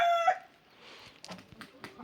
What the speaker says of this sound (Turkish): Bunlar da ötüyor bu arada.